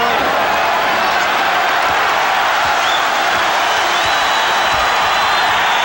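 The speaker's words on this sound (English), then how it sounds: "That's the nervous kind of applause from the Forum crowd." Nervous applause at the Forum during a 1991 Trail Blazers–Lakers basketball game: a steady, distant wash of crowd clapping and murmur that holds throughout, with a commentator talking over it.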